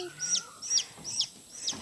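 Chicken clucking on a rural province farm: four short, evenly spaced clucks at close range within under two seconds, with faint background noise and no talk.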